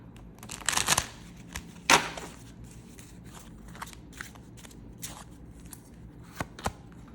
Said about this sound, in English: Let's pull a few more cards to see what this person has to say to you.